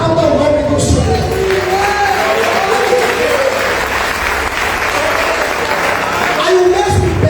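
A church congregation applauds during a sermon, a full continuous wave of clapping with some cheering, while a voice speaks briefly over it near the start and end.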